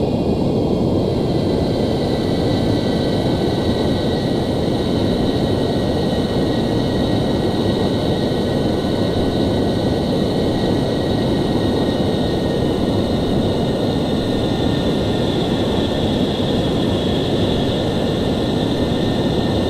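Cockpit drone of an F-14 jet in simulated flight, with a steady, dense roar and faint high whine holding unchanged throughout, loud and continuous.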